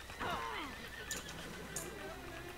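A horse neighs in the video game Red Dead Redemption, a loud whinny near the start followed by soft hoof clip-clops and faint game sounds.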